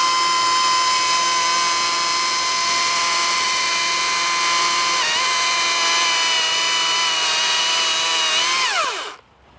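A battery-powered chainsaw runs at a steady high whine close up for most of the stretch, with a brief dip midway, then winds down sharply at the end.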